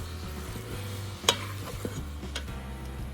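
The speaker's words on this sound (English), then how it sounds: "I'm going to just continue to cook this ground beef until it is all nicely browned." Ground beef browns in a pan with a soft steady sizzle, broken by a sharp scrape or clack of a utensil and a few lighter stirring knocks over a low hum.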